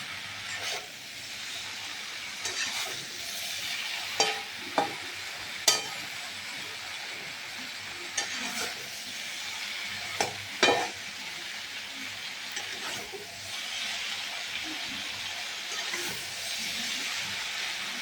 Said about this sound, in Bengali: ঝিঙেগুলো দিয়ে ভালো করে নাড়াচাড়া করে নেব মশলাটাকে